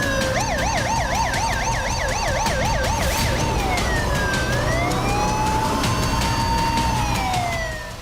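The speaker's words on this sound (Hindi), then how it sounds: "शहर और सड़क पर पुलिस और एम्बुलेंस के सायरन का" Police and ambulance sirens wail through city streets during an emergency in Lebanon, one wailing tone rising and falling quickly beside a slower sweeping siren, loud and continuous against traffic rumble.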